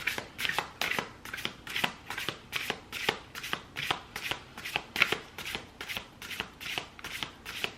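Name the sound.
oracle cards being shuffled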